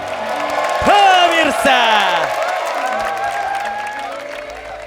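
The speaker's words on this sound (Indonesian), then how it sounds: "tepuk tangan dulu buat keempat panelis" A studio audience on a television talent show applauds and cheers for the panel, and a host's loud, drawn-out shout rings over the wash of clapping before the crowd noise settles.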